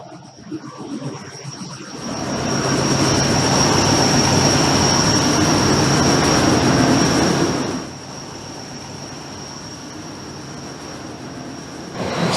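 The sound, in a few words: natural gas cogeneration engine running in its enclosure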